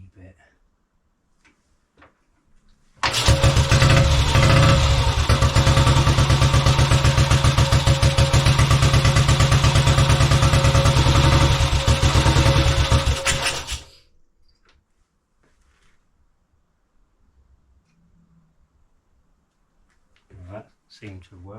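A 1928 Velocette KNS 350cc OHC motorcycle engine, starting for the first time in over 30 years, bursts into a loud, steady run for about eleven seconds and then cuts out, leaving quiet handling noises afterward.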